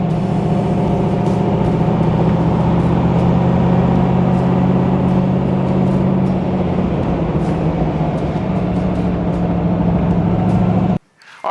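A restored 1957 Chevrolet Corvette convertible in Venetian Red drives along with a steady, loud engine drone and road rumble throughout, cutting off abruptly near the end.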